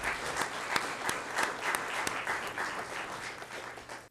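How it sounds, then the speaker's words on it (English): A room full of people at a chamber of commerce forum applauding, steady dense clapping lasting several seconds before tapering off slightly at the end. "How about another round of applause for this question?"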